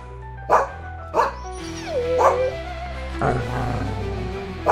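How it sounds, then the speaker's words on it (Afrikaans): A dog in an Afrikaans fairy tale for children barks several times in short sharp yaps, a few whimpering yips among them, over a steady music bed. "Hoekom blaf jy so?"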